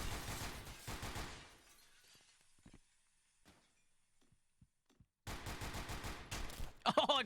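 Bursts of rapid gunfire in Intruder, loud sharp shots in a tight cluster at the start, then near silence with a few isolated faint clicks and thuds, before another heavy burst of shots closes it out.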